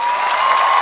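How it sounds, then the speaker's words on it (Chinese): A large crowd claps in steady, dense applause at an outdoor concert rally in Kaohsiung. The sound is loud and close, a continuous wash of hands with no voices above it. "大家再次热烈的掌声，好不好？"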